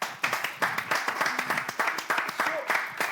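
An audience at a children's school contest claps for a CM2 candidate in a loud, rhythmic, fairly even beat, with voices talking over the clapping.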